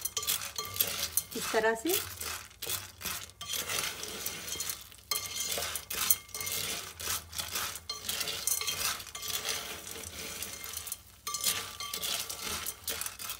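Popcorn kernels stirred in a pan for homemade butter popcorn, with repeated scraping and rattling strokes and soft sizzling in an uneven rhythm, someone speaking briefly over it.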